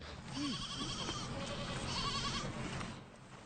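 Goats kept at an urban conservatory bleat several times at close range over a steady outdoor background, with one clear bleat near the start and fainter calls following.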